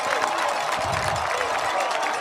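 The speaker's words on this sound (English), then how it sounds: "Crowd on their feet trying to get loud and get a stop" Wheaton College football crowd on its feet roaring on fourth down against Augustana, a dense, steady wall of cheering and noise filling the whole stretch with some clapping in it.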